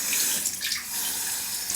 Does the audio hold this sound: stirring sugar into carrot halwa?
no